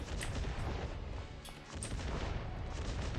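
Automated turrets firing in the My Hero Academia: The Strongest Hero game during PvP combat: a dense, continuous rattle of rapid shots with a few sharper bursts, loud and steady throughout.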